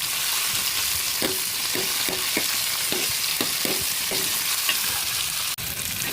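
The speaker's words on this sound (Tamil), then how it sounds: "தக்காளி வதங்கிடுச்சு." Tomatoes sauté in a pan for brinjal sambar. A steady, bright sizzle runs throughout, and a series of soft rhythmic stirring scrapes sits on top of it. No voices are heard.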